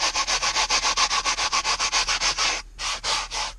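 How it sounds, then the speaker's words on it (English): A stiff brush scrubs sprayed cleaner across a car's paint during detailing, making fast, even back-and-forth rubbing strokes, loud and close, with a brief pause before a few more strokes. "Take the brush and just get right on it"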